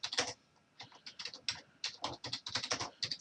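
Typing on a computer keyboard in short bursts of close, crisp key clicks with brief pauses between runs, no voices.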